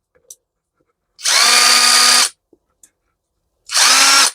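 A Bosch cordless drill-driver spins up twice after a circuit board repair, each run a loud whirring motor lasting about a second with a gap of near silence and small clicks between them.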